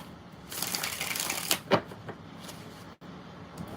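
Tarot cards are shuffled by hand, a dense riffling flutter with a couple of sharper snaps, close and fairly loud, ending in a brief pause and lighter shuffling.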